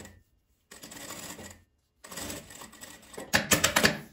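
Sewing machine stitching fabric for a small zippered pouch, running in short bursts separated by pauses, with a fast rattling mechanical whir that grows louder in the final burst.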